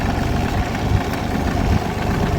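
A tractor engine idles steadily close by, a continuous low rumbling drone with mild vibration and no talk over it.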